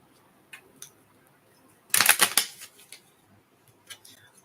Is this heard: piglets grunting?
no